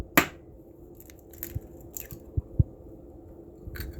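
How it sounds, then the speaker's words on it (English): An egg cracks on a flat kitchen surface while making an omelette: a sharp tap at the start, then a few soft cracks, squishes and small knocks in an otherwise quiet room. "what you want to do is crack it on a flat surface"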